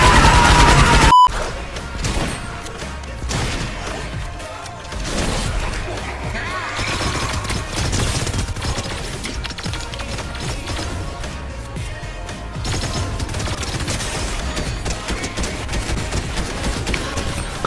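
AK-47 gunfire in the video game Fortnite comes as dense, loud bursts and crashing impacts that run almost continuously, with game effects and some voices mixed in.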